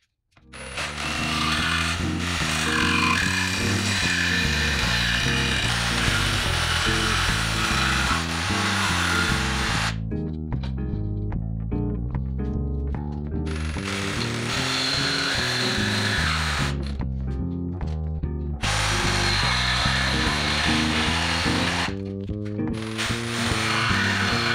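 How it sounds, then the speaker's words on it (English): A power saw cuts the profile of a wooden zero clearance insert for a DeWalt DWE7491 table saw, a loud, continuous rasping cut with a ratcheting rhythm that halts briefly several times. "now I'm going to go ahead and cut out the rest of this profile"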